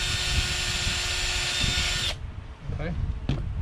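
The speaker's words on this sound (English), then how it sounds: "So we're gonna pre-drill this one." A power drill pre-drilling wood whines loudly for about two seconds, then cuts off, leaving quiet room noise and a few faint sounds.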